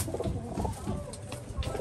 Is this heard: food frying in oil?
no